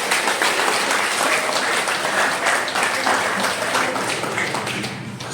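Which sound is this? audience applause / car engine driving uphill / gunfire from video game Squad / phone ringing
audience applause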